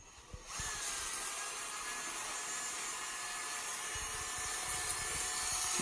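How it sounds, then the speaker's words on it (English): A power drill spins a screw head against a sandpaper block to polish it, whirring steadily at high speed, a continuous buzzing spin with a faint grinding edge, starting after a brief click. "chuck it into your drill and use your sandpaper block"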